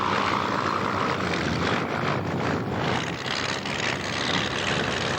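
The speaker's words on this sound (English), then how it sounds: "as the Spitfire turns around there in plan form" Ex-Irish Army Air Corps Spitfire T9 flying at an autumn airshow at Duxford, a loud continuous engine roar overhead that swells and ebbs slightly as the aircraft turns, with no talking.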